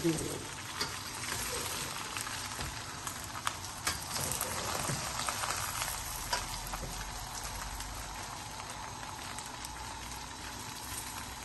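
Okra frying in hot oil in a pan for a masala bhindi dish, a steady close sizzle and crackle with occasional stirring clinks, no talking.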